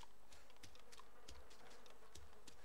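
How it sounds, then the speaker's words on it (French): Flies buzz in a survival video game, a faint steady hum broken by repeated sharp clicks and taps. "Enfin, de moi, il y a les mouches."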